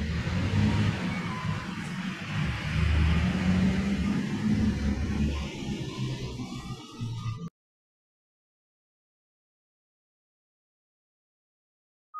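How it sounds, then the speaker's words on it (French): Trucks pass outside on truck day, a low rumbling road noise rising and falling for several seconds before stopping abruptly into silence. "Donc, c'est le jour des camions ici. Peut-être un peu de bruit derrière"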